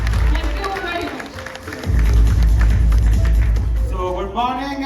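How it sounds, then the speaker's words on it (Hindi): An audience applauding at a business leadership seminar, dense clapping that swells after a brief lull and carries on loudly, with a voice speaking over it at moments. "एक बार जोरदार तालियां हो जाए लंच के बाद पूरी एनर्जी के साथ दमदार तरीके से"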